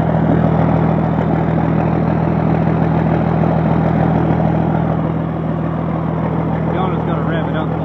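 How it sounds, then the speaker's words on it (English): A heavy military Deuce and a Half truck engine idles steadily with a deep, rumbling exhaust drone, loud and close, holding an even throb throughout. "here is the beautiful sounding exhaust"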